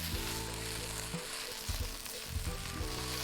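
Onions frying in a pan until golden brown for a bulgur and chickpea veggie burger, giving a steady, close sizzle with brief stirring scrapes breaking in midway.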